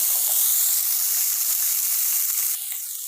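Chopped onion and a sprig of curry leaves hit hot oil for semiya upma, giving a loud continuous hiss that eases slightly near the end, close and alone.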